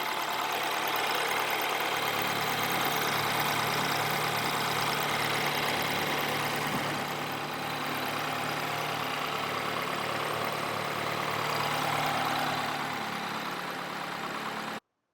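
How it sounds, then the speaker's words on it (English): A BMW car engine idles steadily and close by, a low, even rumble with a faint rhythmic knock, continuing without speech until it cuts off abruptly at the end. "Engine sound nice and strong, just how we wanted it to."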